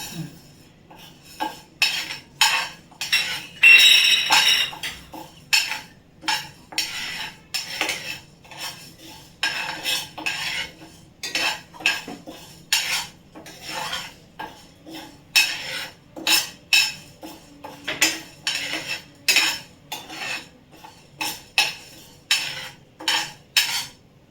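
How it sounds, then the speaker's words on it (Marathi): Wheat grains go into a pan for a metkut spice-powder recipe, with repeated metallic clinks and scrapes of a spoon stirring them against the pan in a steady rhythm, fairly close and with no talking. "आता मी गहू घालत आहे."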